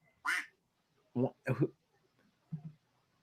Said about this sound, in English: my phone quacks when I get an update